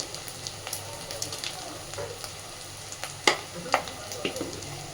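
Turmeric and chili powder fry in a pan for an egg masoor dal tarka, giving a steady close sizzle with scattered sharp crackles and a few louder stirring scrapes near the end.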